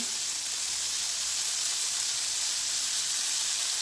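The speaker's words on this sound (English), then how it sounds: "I just crumble it up in the pan" Crumbled tofu sizzles steadily in a frying pan for a plant-based tofu scramble, a continuous close hiss with no voices.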